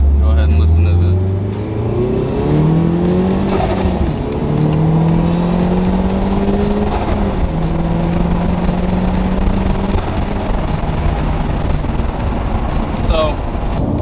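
Turbocharged 2022 Subaru BRZ / Toyota GR86 making 325 wheel horsepower, heard from inside under steady hard acceleration: a loud, continuous engine drone rising through the gears with shifts, boosted whoosh over strong road and wind noise.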